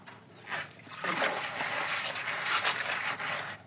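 Water pouring and splashing into a container, a close, soft rush that starts after a brief pause and continues unevenly to the end, fairly faint.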